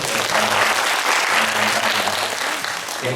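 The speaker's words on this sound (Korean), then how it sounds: "우리 성가대에게 박수 한번 더 쳐주세요." A church congregation gives the choir a dense, sustained round of applause that fills the room at full volume, with a faint low hum underneath and no voices above it.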